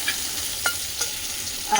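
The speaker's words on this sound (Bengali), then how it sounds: "এগুলো ভাজা হচ্ছে কাঁকরোলটাও খারাপ হয়ে যাবে বললে সেই জন্য আমি বলি কাঁকরোলটাও ভেজে নিই" Sliced spiny gourd sizzles steadily in hot oil in a pan, a close, even hiss with a few soft clicks of stirring, no voices.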